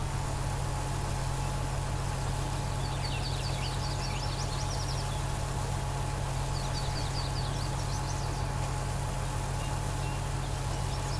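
A farm vehicle engine idles steadily in a farming video game, a low, even rumbling drone throughout, while bird chirps flutter faintly in the background, with no voices.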